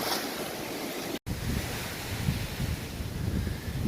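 Ocean waves wash onto the beach at a seaside resort with half a mile of oceanfront sand, a steady broad surf roar mixed with wind buffeting the microphone, with one brief dropout early on.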